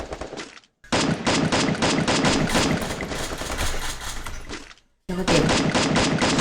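AR rifle gunfire in the video game Free Fire, long loud rapid automatic bursts with a short gap between them and a sharp stop near the end, no voices.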